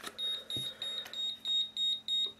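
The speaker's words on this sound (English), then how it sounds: "It will beep and warn you" A Harbor Freight Cen-Tech digital multimeter gives a high-pitched warning beep for wrongly placed test leads, repeating in a quick, steady on-off pattern, close and clear, with a couple of small clicks.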